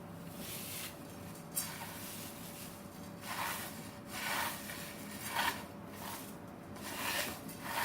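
Dry sevaiyan vermicelli is broken into small pieces by hand, making soft, quiet crunching and rustling bursts that come in an uneven rhythm close by.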